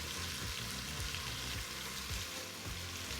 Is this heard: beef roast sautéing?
yes